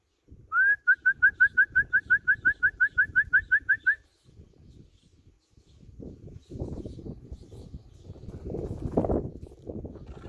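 Racing pigeons at the loft: a rapid series of about twenty evenly spaced, clear whistle-like notes, then softer rustling, shuffling and fluttering sounds that build toward the end.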